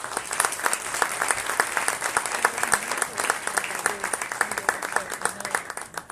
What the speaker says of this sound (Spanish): Recibimos con un fuerte aplauso a Alejandro Cacho.